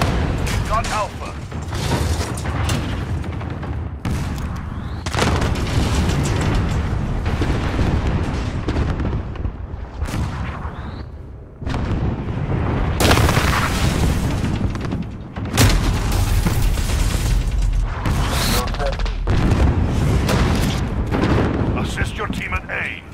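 Grenade explosions and battle noise in the video game Call of Duty: Modern Warfare, loud sustained booms and rumbling blasts layered over gunfire throughout, with brief dips between waves.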